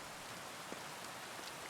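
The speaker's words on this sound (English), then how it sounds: "Ugh, rain." Steady rain falls in the medieval open-world game Kingdom Come: Deliverance II, a soft, even hiss of droplets that continues without a break and without speech.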